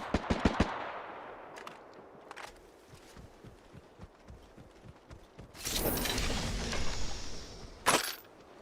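Gunfire from a competitive Valorant-style shooter match: several sharp shots at the start, scattered quieter pops, then a dense loud burst of rapid automatic fire and a final sharp crack, with no talk.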